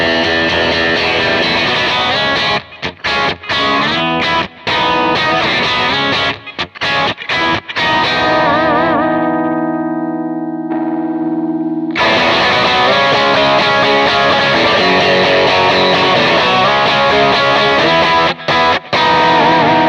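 An electric guitar plays through a Vox AC30 amp, thickened with EQ, giving a loud, distorted tone. Choppy strummed chords give way to a sustained ringing chord that stops abruptly, then a full, driven passage resumes.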